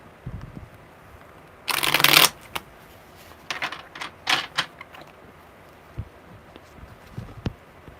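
A deck of tarot cards is shuffled close by, with a loud burst of riffling followed by scattered softer flicks and taps of cards being handled.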